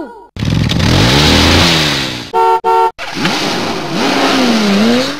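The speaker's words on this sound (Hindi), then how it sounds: "आ गाड़ी भी आ गई" A car's engine revs and drones up close as the vehicle pulls in, broken by two short honks of its horn midway, then the engine keeps running loudly.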